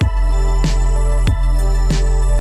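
Electronic music from the Hotline Miami video game soundtrack, with a sustained droning synth bed and sharp percussive hits landing roughly every half second, loud and close.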